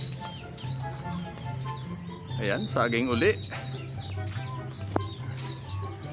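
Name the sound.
pet turkeys clucking on a farm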